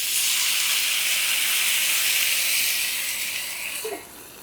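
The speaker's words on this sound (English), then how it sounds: "And then close, and that's gonna do a quick steam." Water poured into a hot pan of mushroom gyoza sets off a loud, steady steaming hiss that holds continuously, then drops off sharply near the end as a lid closes, with no talking.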